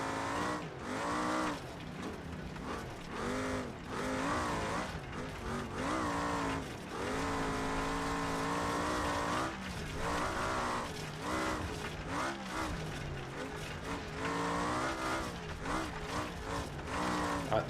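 A four-wheel-drive truck in a video game drives hard with a steady, loud engine drone, revving up and down over nearly eighteen seconds, with tire skidding and squeals mixed in and no talking.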